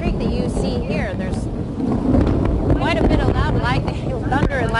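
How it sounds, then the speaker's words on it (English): Loud thunder rumbles continuously through a thunderstorm near Indian Creek, with wind buffeting the microphone and rain in the background, steady and heavy for the whole stretch. "There's quite a bit of loud thunder and lightning going on right here right now."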